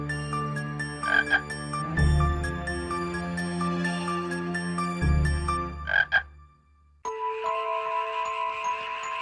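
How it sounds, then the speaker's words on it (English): A cartoon toad croaking in a fairy tale, with repeated synthesized croaks over tinkling music before a sudden shift to a brighter chime tone. "Then one night, a toad came into Thumbelina's bedroom. Ribbit, Ribbit"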